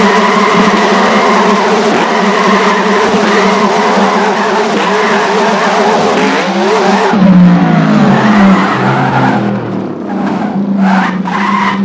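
A fast car accelerates hard with its tires squealing, a loud sustained engine roar and high screeching rubber that shifts and swells midway before easing off.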